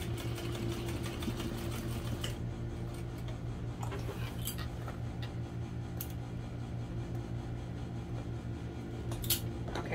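Close, steady mechanical hum of a sewing machine back stitching over webbing on a vinyl and waterproof canvas parachute knapsack, with a few faint clicks and ticks on top.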